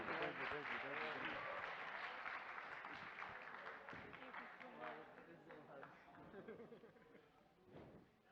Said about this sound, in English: Let's give a nice round of applause once again for Sheran.